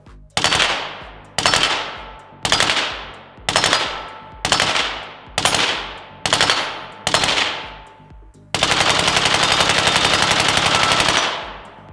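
A suppressed SIG 551-2 LB rifle fires eight close, evenly spaced muffled shots, each with a brief decaying tail, then lets off a loud sustained burst of rapid fire lasting about three seconds.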